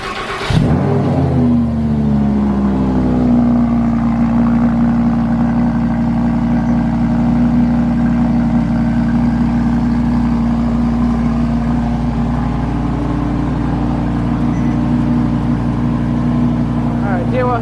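A Lamborghini Huracan V10 supercar fires up with a sharp burst, then settles into a loud, close, steady idle with a few rising revs, while people talk over the engine.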